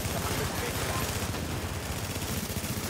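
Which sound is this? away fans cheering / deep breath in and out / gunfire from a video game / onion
gunfire from a video game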